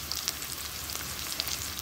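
Sausage (linguiça) fries in a pan while a ragu is being made, giving a soft, continuous sizzle with scattered small pops and crackles at close range.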